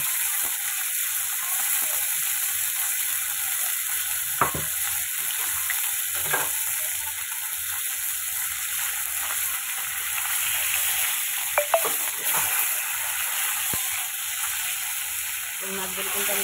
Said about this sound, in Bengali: এই মাছগুলো কিন্তু আমি খুব ভাজবো না, হালকা ভেজে নেবো।